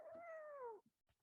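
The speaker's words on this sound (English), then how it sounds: "Yes, buddy, that's my cat." A single drawn-out cat meow, loud and close, sliding slightly downward over about eight-tenths of a second, followed by a few faint soft noises and then quiet.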